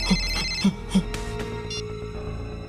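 A phone ringtone chirping a few times with electronic tones, followed by a sustained ringing pattern, fairly close and clear with no talking, in a horror drama scene.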